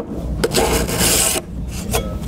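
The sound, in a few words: mill file filing a burr off a card scraper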